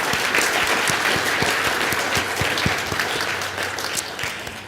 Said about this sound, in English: We'll also give them a big round of applause.